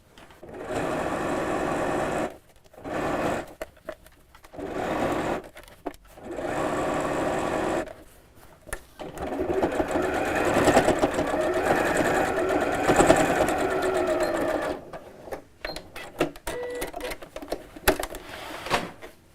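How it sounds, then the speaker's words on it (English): A sewing machine stitches around the top of a fabric drawstring bag slipped over the machine bed, running in short bursts, then a longer steady stretch of rapid stitching, its motor whirring close by with brief pauses between runs. "I'm going to slip this over the bed of my sewing machine again, and then literally just sew all the way around the top."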